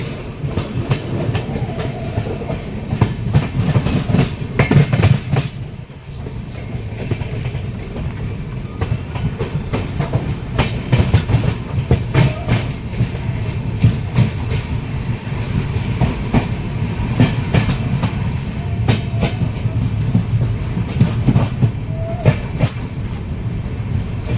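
A train rolls along the rails through Uttar Pradesh, a loud steady rumble broken by rhythmic clickety-clack wheel beats, heard from inside a carriage and continuing for the whole stretch.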